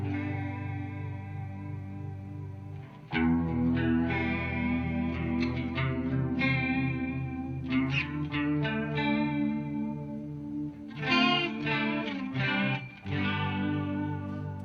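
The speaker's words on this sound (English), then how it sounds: "Just a real beautiful kind of 80s chorus." Clean electric guitar chords shimmer with a lush, wavering 80s-style chorus effect, slow strums ringing out and sustaining, played alone at moderate volume.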